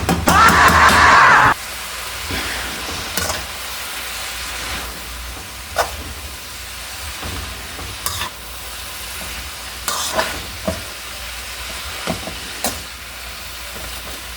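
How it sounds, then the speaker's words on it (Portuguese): Kale sautéing in butter and garlic in a pan, with a loud sizzle burst at first, then a steady soft frying hiss broken by repeated scrapes and clatters of stirring throughout. "eu vou mexendo até ter certeza que toda a couve tá envolvida no tempero, na manteiga, no alho"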